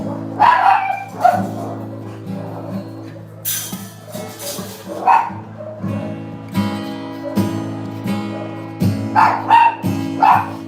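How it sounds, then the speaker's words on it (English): Several neighborhood dogs in the Philippines bark and yip in repeated bursts, some near and some farther off, over a steady sustained musical tone. "y'all hear 100 dogs out in the neighborhood"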